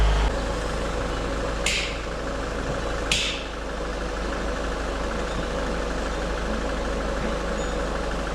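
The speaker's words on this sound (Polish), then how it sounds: "Musimy teraz nagrzać silnik" A Peugeot 508 engine idling to warm up at a low, even rumble, close by, with two brief hissing bursts early on and no voices.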